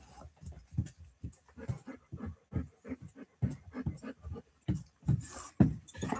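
A dog panting steadily and close, a quick rhythmic run of breathy huffs with occasional faint whimpers.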